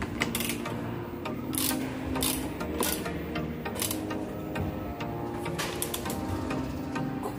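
Nuts and bolts being tightened on a hand guard of a Honda Shine 125 motorcycle, a steady busy run of metallic clicks, ratcheting and scraping close up, continuous for several seconds.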